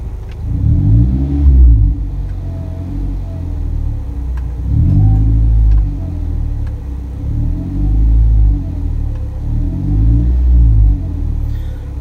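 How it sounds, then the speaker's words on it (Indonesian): A Toyota Avanza or Daihatsu Xenia engine is revved in several loud surges, each swelling and falling back to a low idle rumble, with a faint steady whine from a humming alternator underneath. "Nih, coba gua gas dulu."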